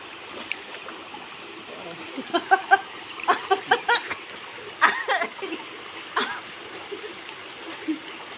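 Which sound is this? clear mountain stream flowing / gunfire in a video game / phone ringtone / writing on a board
clear mountain stream flowing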